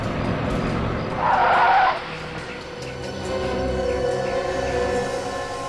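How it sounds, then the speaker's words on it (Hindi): A truck's tires skid in one loud, short screech as it pulls up and halts in front during a staged bank-van robbery, followed by a steady engine rumble. "यही ट्रक है, वो सामने आके खड़ी हो गई है।"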